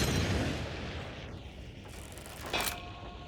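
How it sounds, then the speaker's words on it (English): An incendiary special ammo shell from a Hunt Showdown shotgun goes off like a firebomb: a heavy booming blast that rolls away into a fading whoosh, then a sharper crackling burst near the end. "It sounds a lot more like a firebomb"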